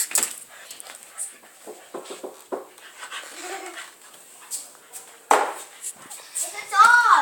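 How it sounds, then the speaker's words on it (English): A dog pants and whimpers in short, uneven bursts at close range, mixed with people talking nearby. "It's a dog!"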